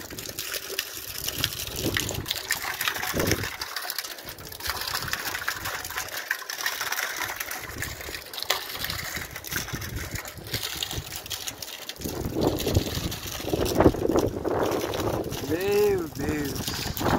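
Water gushes steadily from a pipe, loud and close, with people talking over it toward the end.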